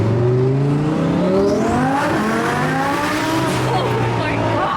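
A twin turbo Audi R8 accelerates hard on city streets in Los Angeles, its engine note climbing steadily through the gears, loud and close, with turbo whoosh over the engine roar.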